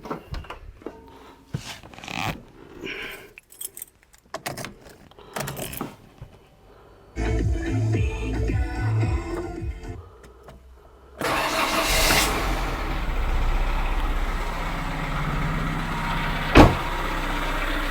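A car with a TU3JP engine starts after a head gasket replacement. Handling noises and clicks lead in, the starter cranks briefly, and the engine catches almost at once, settling into a loud, steady idle close by.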